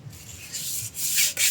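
Close, rasping strokes of metal-grade sandpaper rubbing metal during a Nissan Navara brake job, a few short scrubbing passes growing louder toward the end.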